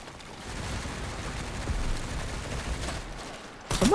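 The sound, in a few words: gunfire in a video game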